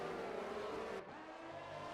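Formula 1 race cars in the F1 23 video game at a Netherlands circuit, a loud high engine whine from a car passing close that drops in pitch as it goes by, with no voices.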